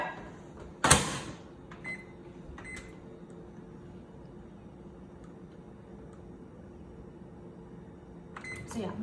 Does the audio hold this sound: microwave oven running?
yes